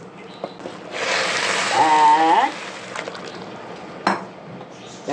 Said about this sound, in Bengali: পোলাওয়ের চালটাকে দারুণ করে ভেজে নেবেন